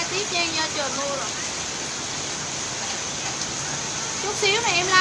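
Steady rain falls as a dense, even hiss throughout, with a voice speaking over it at the start and end.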